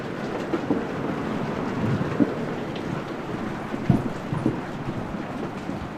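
Steady rain falls during a storm, with a dense even patter and occasional low thumps that could be distant thunder, and no voices.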